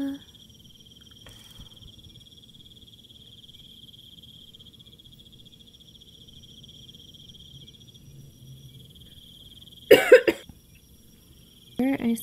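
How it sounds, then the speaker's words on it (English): A couple of short, harsh coughs burst out near the end, against a quiet background with a steady high insect-like whine and faint low rumble. "I still have a little cough"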